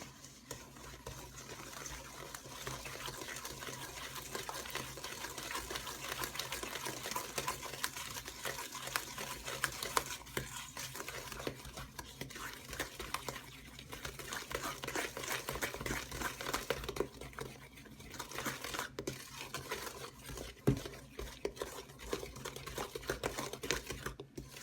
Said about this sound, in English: we're just going to mix all of this together.